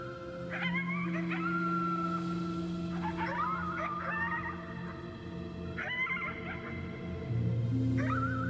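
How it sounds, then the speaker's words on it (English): Wolf-like howling in the video game Before Your Eyes: drawn-out wavering howls rise in several separate bursts over a steady droning game soundscape, moderately loud and close, with no talking. "You howled at the moon, at the top of your lungs."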